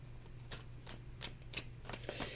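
Playing cards are riffled and shuffled in a series of soft, quick flutters, repeating about every third of a second against a faint low hum.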